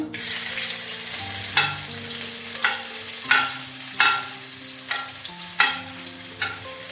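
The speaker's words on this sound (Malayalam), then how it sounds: "കുഞ്ഞുള്ളി ഇടുന്നു." Shallots fry in hot oil after mustard seeds pop, a close, continuous sizzle broken by regular stirring scrapes about once a second, with no one speaking.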